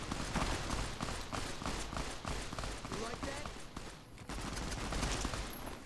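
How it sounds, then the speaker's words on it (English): Gunfire crackles in Fallout New Vegas as an NCR Trooper Patrol clears out the Vipers: repeated sharp shots and bursts spread across the whole stretch, with a voice talking over parts of it. "I continue my travel to hear some gunfire ahead of me."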